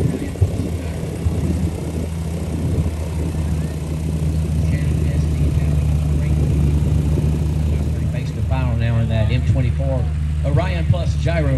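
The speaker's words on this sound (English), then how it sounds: "M24 Orion Plus gyroplane. This outfitted with a 100 horsepower 914" Magni M24 Orion Plus gyroplane fitted with a 100 horsepower Rotax 914, running at a light aviation showcase; a steady low engine drone and propeller hum continue throughout while people talk over it.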